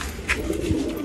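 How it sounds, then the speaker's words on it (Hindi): Pigeons coo nearby in soft, throaty murmurs, a brief burst of low bubbling calls. "कबूतर बावले से हो रहे हैं"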